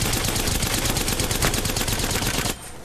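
Havoc rifle from Apex Legends firing in a rapid sustained automatic burst, loud and close, stopping abruptly just before the end.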